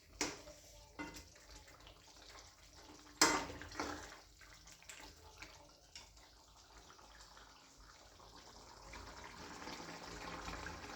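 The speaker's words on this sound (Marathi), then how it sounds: "ते गरम पाणी झालं का आपण त्यामध्ये टाकूया" Hot water is poured into a pan of chicken masala on the stove, a soft, faint gushing pour broken by a few clinks and splashes before it settles into a gentle steady flow.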